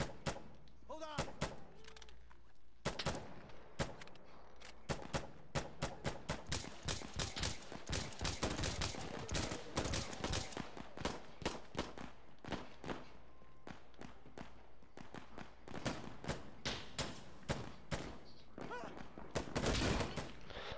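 Rapid bursts of in-game gunfire from Insurgency: Sandstorm, automatic volleys mixed with single loud shots and footsteps, dense and close throughout with a player voice talking over it.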